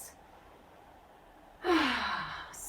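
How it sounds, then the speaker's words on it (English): A single deep exhaled breath during a gentle exercise class, a soft, close sighing rush of air after quiet room tone, with a short breath sound at the very start. "Nice couple of deep breaths."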